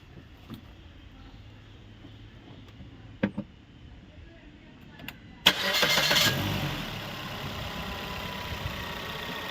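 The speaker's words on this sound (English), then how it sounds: "Okay, start the engine." After a few quiet clicks, a car engine cranks and catches with a loud surge, then settles into a steady idle.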